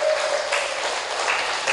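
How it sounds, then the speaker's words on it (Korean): A crowd at a business presentation gives dense, steady applause, loud and sustained throughout without pause. "여러분 박수 한번 주시죠."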